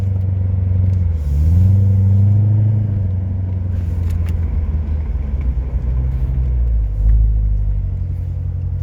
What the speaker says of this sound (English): I just released the emergency brake.